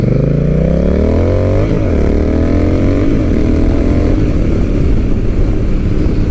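A Honda Rebel 1100 motorcycle fitted with a TBR exhaust and silencer insert revs loudly up close, its deep engine note climbing and dropping, then settling into a steady, rumbling idle.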